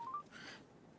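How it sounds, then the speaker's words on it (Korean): A telephone number is dialed, giving a few quick, faint keypad tones in a quiet room before a soft rushing noise. "명은원 선생님한테 전화 한번 해봐"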